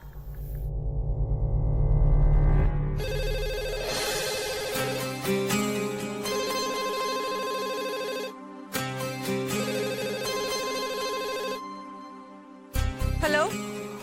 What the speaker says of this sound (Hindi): लैंडलाइन पर फोन करती हूँ।